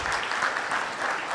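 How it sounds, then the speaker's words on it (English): An audience claps steadily after a medical debate, a dense wash of applause that holds an even level for the whole brief moment. "Really big applause for both of you for really a great debate."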